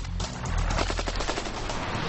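An AK-47 rifle fires a fast, sustained automatic burst of evenly spaced, loud, close shots for about two seconds.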